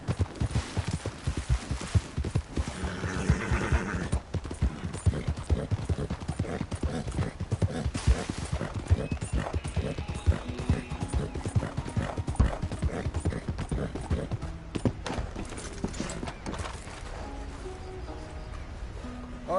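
Horse hoofbeats in Red Dead Redemption 2, a fast rhythmic clip-clop of galloping pounding steadily throughout, close and loud, with a brief whinny-like snort early on.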